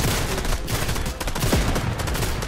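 Rapid bursts of Fortnite gunfire crackle continuously in a dense, loud volley filling the short stretch, with no talk over it.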